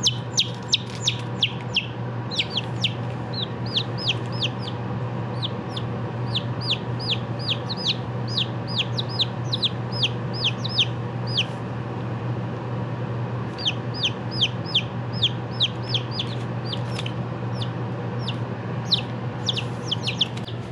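Day-old chickens peep and cheep continuously in a rapid, overlapping chorus close by, with a steady low hum underneath.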